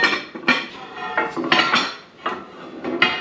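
Metal clanks and clatters from a pot lid being set onto a pot holding scored sourdough dough, several sharp knocks and rattles in short bursts, close and fairly loud with no talking.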